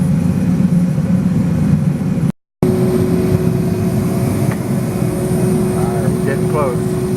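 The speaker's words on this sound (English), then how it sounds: "It's starting to sound like a little jet engine." A gas-fired furnace melts bronze for casting gate hardware with a loud, steady jet-like roar and a low rumble that runs continuously, broken once by a brief cut, with a faint tone emerging later.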